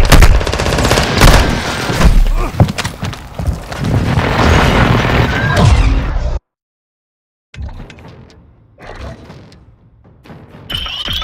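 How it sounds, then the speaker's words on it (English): Airstrike explosions and gunfire fill a Call of Duty Modern Warfare II multiplayer match: heavy booms and rapid bursts of shots roll on loudly for several seconds, then drop to total silence before fainter scattered shots and rumbles return. "Hostile airstrike incoming."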